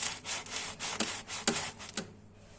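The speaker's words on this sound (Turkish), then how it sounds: "Bunu sizler için böleceğiz." A knife saws through a crusty homemade round loaf of bread, giving about five rasping back-and-forth strokes, close and clear, with the crust crackling on each pass before going quiet.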